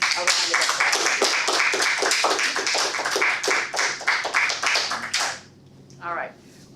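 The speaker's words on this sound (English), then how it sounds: "So I'd like to give Dee a round of applause." A round of applause at a Toastmasters club meeting, a small group clapping steadily for about five seconds before it stops and a voice begins speaking.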